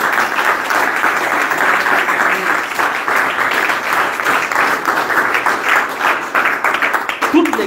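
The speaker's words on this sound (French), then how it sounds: "Applaudissez le Seigneur." A church congregation applauds steadily and loudly throughout, dense clapping with crowd voices mixed underneath during a French-language sermon.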